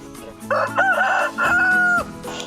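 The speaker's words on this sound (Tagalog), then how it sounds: "Ito ang native chicken." A native rooster crows once nearby in the provinces, a loud drawn-out call in several rising and falling segments lasting about a second and a half.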